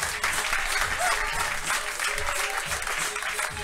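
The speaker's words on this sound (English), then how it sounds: "Nice round of applause. Let them hear it." A comedy club crowd at a 40th birthday roast gives a dense round of applause that stays even and sustained throughout, with no talking over it.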